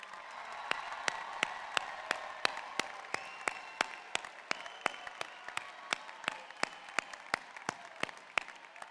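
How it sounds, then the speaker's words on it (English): Applause rings out for graduates at a spring commencement ceremony, an even, moderately distant crowd clapping with sharp individual claps standing out throughout, and no talking. "please join me in another round of applause for our graduates"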